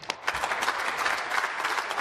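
Parliament members clap together in a legislative chamber during question period, a dense, steady burst of applause filling the room with sharp overlapping hand claps throughout.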